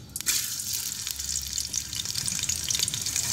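Onions frying in hot cooking oil for dal rice khichdi, a steady close hiss and crackle of sizzling that holds throughout, with a few sharper pops near the start.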